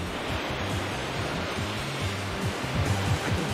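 Steady rushing water ambience from the video game Riviera: The Promised Land, a continuous broadband wash with a low rumble that holds evenly throughout, with no voices.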